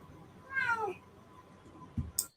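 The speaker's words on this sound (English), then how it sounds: "Is that your cat?" A domestic cat lets out one drawn-out, rising-then-falling meow, fairly close and clear, followed by a couple of small clicks and taps; no one speaks.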